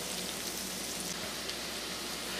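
Chopped garlic fries in a pan over medium-low heat, giving off a steady, even crackling sizzle that holds at one level throughout, with no voices.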